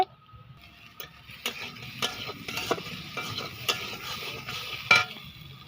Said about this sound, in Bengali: এটা ভাজি করা হবে রসুন আর কালো জিরে ফোড়ন দিয়ে কুমড়োটা ভাজি হবে